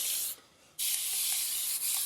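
Two bursts of hissing water spray from a pump bottle onto hair, a short one then a longer steady mist after a brief pause, close by with no talking.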